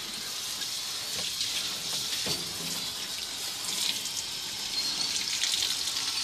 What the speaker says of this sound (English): Now I'm just gonna rinse her off